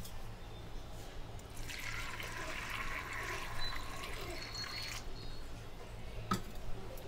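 Cut potatoes for French fries are swished and rinsed in a bowl of water, soft splashing and sloshing that swells in the middle, quiet and close with no talk.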